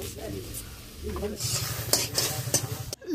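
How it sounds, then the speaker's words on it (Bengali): Boiled green chilies stirred in a pan with a spoon: close, busy scraping and clattering strokes over a steady sizzle, with a faint voice in the background. "2 মিনিট এইভাবেই নেড়ে চেড়ে নেব"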